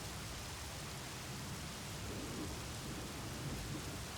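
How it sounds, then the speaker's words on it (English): Steady rain pours around the listener in a fantasy story setting, a dense even hiss with low rumbling thunder swelling faintly in the background, no voices. "I could only detect the sound of rain and lightning around me"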